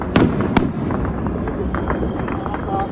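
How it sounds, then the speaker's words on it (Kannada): Explosions heard during a Pakistani drone attack near the border: two sharp, loud blasts early on, followed by a rumbling, noisy background with fainter distant pops. "ಸ್ಫೋಟದ ಸದ್ದನ್ನ ಗಡಿಭಾಗದ ರಾಜ್ಯಗಳಲ್ಲಿ ಕೇಳಿಸಿಕೊಳ್ಳಲಾಯಿತು"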